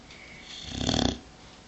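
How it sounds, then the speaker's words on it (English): A dog snores close by: a single rising, rattling breath that swells to a peak and fades, with no talk over it. "What are you snoring for?"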